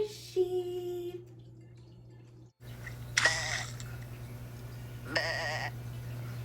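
A sheep bleats in a few short, wavering calls spaced apart over a low steady hum, moderately close and otherwise quiet.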